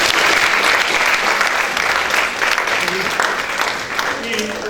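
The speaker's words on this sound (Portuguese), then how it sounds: "Um salve de palmas para o Simão Cardoso." A room of people applauds Simão Cardoso at a social education event, steady dense clapping filling the space throughout, with faint voices mixed in beneath it.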